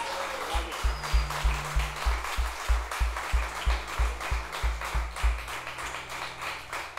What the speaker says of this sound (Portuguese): Podem aplaudir de novo